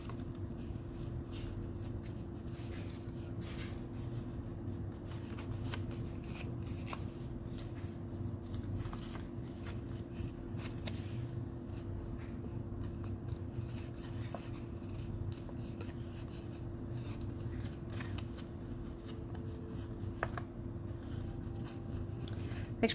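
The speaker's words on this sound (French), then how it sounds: "je fais juste les plis vis-à-vis les plis dans le fond que le poinçon a fait" Paper being folded by hand along punched creases for card making, heard as quiet, continuous rubbing and soft crinkling against a low steady hum, close and faint, with no talk.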